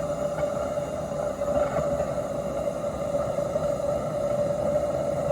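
Gas burners on a Maxitrak Allchin 1.5-inch model traction engine roar steadily like small blowtorches, a constant rushing flame sound with a faint tonal hum, close and unbroken, with no talking.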